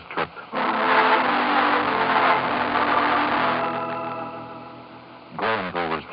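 A car motor drives steadily into a small town at nine in the evening, a 1940s radio drama effect, loud and sustained with a faint horn-like tone near the end before a brief voice-like burst.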